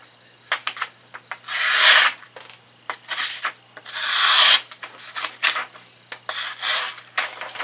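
A knife blade being sharpened on a Work Sharp Precision Adjust sharpener, close and distinct, with rhythmic rasping strokes in clusters, some long sweeping passes and shorter scrapes, with no talking.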